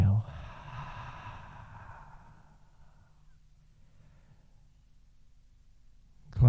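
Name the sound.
slow exhale during yoga breathing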